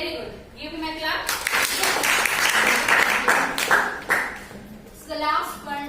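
A class of schoolchildren claps for a student who has just given a right answer, a burst of close, dense hand clapping lasting a few seconds, with children's voices chattering before and after it.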